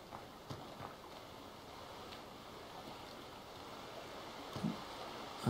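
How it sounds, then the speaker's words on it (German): A waterfall in the farming game Landwirtschaftssimulator 15, a steady soft rush of falling water at moderate distance, with faint scattered clicks and no talking. "Einen schönen Wasserfall."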